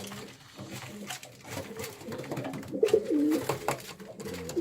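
Pigeons cooing while they feed, the low rolling coos swelling and repeating through the middle of the clip over soft background bird activity and a faint voice.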